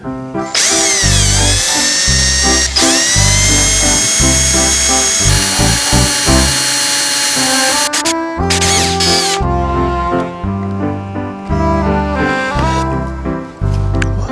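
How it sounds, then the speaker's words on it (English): A power drill whines loudly and continuously, drilling out a broken screw, its pitch rising and falling as it bites in, with brief pauses and restarts. "Let's see if we can drill that out"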